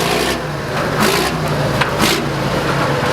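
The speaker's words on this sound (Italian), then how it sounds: "fai sentire un po' di rombo" An old modified American REO truck engine roars loudly and steadily up close, with a few brief revving surges over the constant heavy rumble.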